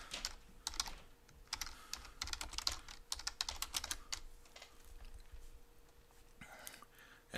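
Fingers type on a computer keyboard in quick, irregular bursts of soft clicks with short pauses between them, close by and fairly quiet, with no talking.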